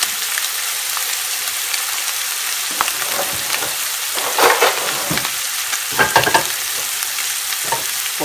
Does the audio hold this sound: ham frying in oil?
yes